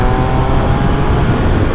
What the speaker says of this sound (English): The engine is so smooth.